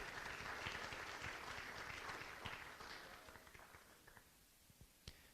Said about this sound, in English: Once again, a round of applause for Jordana.